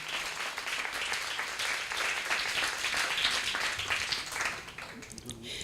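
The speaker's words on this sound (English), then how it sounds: "Let's give them a round of" Audience applause at a networking evening on women in top management, a dense steady wash of many hands clapping close by, holding level for several seconds before thinning toward the end, with a murmur of voices mixed in.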